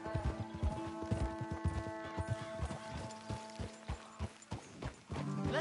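Horses walking along a road, their hooves clip-clopping in a steady, close, even rhythm over a faint sustained tonal drone.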